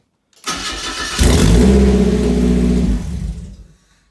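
A Mazda Miata with its interior stripped out and wiring torn out cranks briefly, catches and starts, then idles with a loud, steady engine rumble before the sound cuts off.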